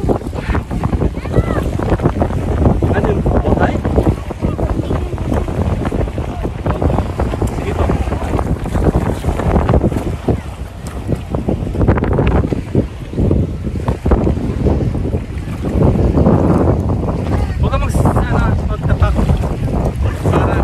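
Strong wind roars and buffets continuously during a boat ride to a white beach, with the boat's motion and rushing water underneath and occasional voices.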